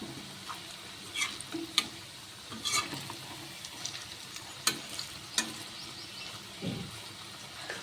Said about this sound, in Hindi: तो देखिए हमारे जो कोफ्ते हैं वो एक तरफ से तल चुके हैं, तो मैं इनको पलट देती हूँ